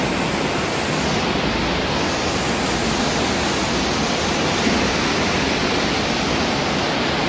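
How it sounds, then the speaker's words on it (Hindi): Fast mountain stream water rushing under high pressure near Naran, a loud, steady roar of churning, colliding water filling the scene without pause and no voices. "ये देखें किस तरह पानी आपस में टकरा रहा है।"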